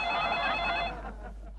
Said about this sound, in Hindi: फिर से फोन आया। तुम उठाओ।